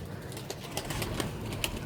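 Bango tumbler pigeons coo softly amid a steady wash of background noise, with faint fluttering now and then.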